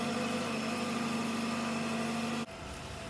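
A forklift engine idles steadily with a low mechanical hum while lifting a delivered DA53t CNC servo press brake onto the ground, then the tone drops abruptly near the end.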